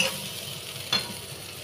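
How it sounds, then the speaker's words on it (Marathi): Onion frying in a pan until brown for sukha chicken, a steady close sizzle with a brief stir or scrape near the middle, no voices. "कांदा ब्राऊन होईपर्यंत आपण कांदा थोडासा ब्राऊन होऊ द्यायचा"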